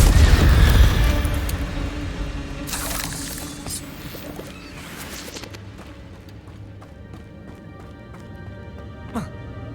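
The Incendio fire spell in Hogwarts Legacy erupts in a loud whooshing burst at the start, followed by a second flaring rush and then quieter crackling and clinking game sounds that trail off.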